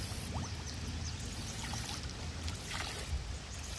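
Contaminated water splashing and gurgling steadily as it is dumped into a filter bottle, a continuous watery rush with small bubbling bursts, close and fairly loud throughout.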